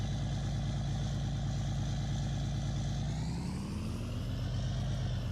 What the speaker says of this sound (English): V8 engine.